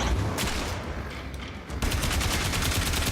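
Gunfire in the Warframe video game, heard as dense rapid bursts of automatic shots that stop briefly, then pick up again as a fast rattling volley.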